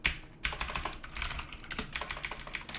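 Rapid, uneven keystrokes on a PICTEK mechanical keyboard with blue Jixian switches, each press a bright, pingy metallic click, close and steady with no voices, after a brief pause at the start.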